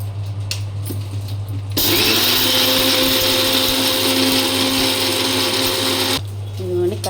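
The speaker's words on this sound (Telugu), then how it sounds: "మిక్సీ కొట్టేసుకున్నాం." A kitchen mixer grinder whirs loudly for about four seconds while blending green chutney, its steady motor drone starting abruptly and cutting off, with quiet room sound and a low hum before and after.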